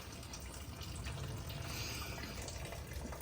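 Coolant drains from the radiator of a turbocharged B20 VTEC engine, a steady, faint rushing and splashing of liquid that continues without a break.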